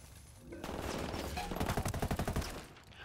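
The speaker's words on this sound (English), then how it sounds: "Oh, they're shooting." Video game gunfire in Ghost Recon Wildlands: after a brief quiet start, loud sustained automatic weapon bursts erupt, ending in a rapid, evenly spaced string of sharp shots.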